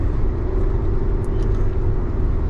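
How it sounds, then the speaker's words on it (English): A comfortable car cruises along a road on the way to a rendezvous in the Ozarks, giving a steady, close interior road rumble and engine drone with no talk over it. "cruising this thing in this car, it's like it's on rails"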